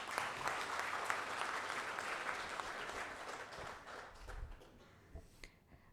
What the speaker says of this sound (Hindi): तो मैम जोरदार तालियां।